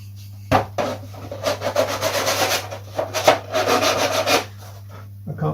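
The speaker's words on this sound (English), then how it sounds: "perhaps I might just sand in there slightly actually." Hand sanding on the wooden main spar of a scale model WW1 Airco DH2 biplane, heard as a run of short, close rasping strokes over a steady low electrical hum.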